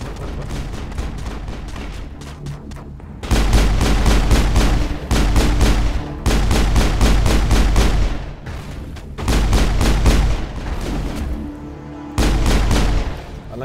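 Gunfire in the shooter Mass Effect, loud clustered volleys of rapid shots arriving in several separate bursts with brief quieter gaps between them.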